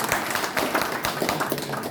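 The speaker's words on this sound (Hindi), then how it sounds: "एक बार सर के लिए जोरदार ताली बजाते हैं" Audience at a gathering applauding a guest, a burst of dense clapping from many hands that holds fairly steady, moderately loud and close.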